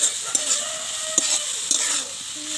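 Malabar spinach seeds and onion leaves fry over high heat, a loud close hiss and crackle with a few sharp clacks of stirring and no voices.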